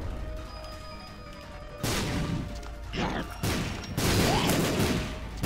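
Bombs going off in The Binding of Isaac Rebirth, several loud crashing blasts in quick succession over game background noise, with no talking.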